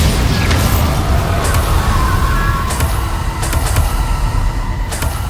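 Bombarda blasting spell cast in the video game Hogwarts Legacy, a dense, loud rumbling burst with sharp transient cracks scattered across the clip, layered over continuous low battle noise.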